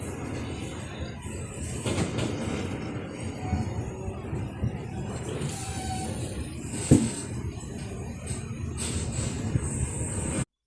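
Passenger train ride departing Ujjain in India, a steady rumbling roll of carriages on the rails with a sharp metallic clank midway and faint high squeals, continuous and close, with no talking.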